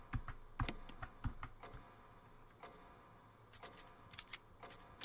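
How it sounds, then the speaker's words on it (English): Old typewriter keys struck in the Resident Evil game, a few sharp, irregular clacks with brief bursts of rapid strokes between quiet gaps, faint and with no talking. "but it's an old typewriter."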